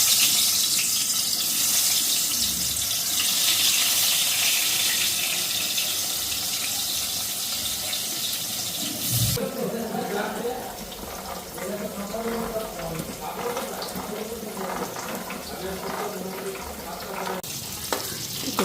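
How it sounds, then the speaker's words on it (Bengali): A heavy midday downpour roars steadily and loudly with a dense hiss, shifting partway through to a slightly different wash of water noise as voices speak now and then. "পুরো ঝুমঝুমাই নেমে গেছে।"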